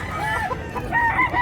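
Big three-year-old roosters crow close by, one long call rising clearly near the end over low crowd murmur and clucking.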